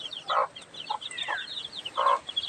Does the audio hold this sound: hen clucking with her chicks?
yes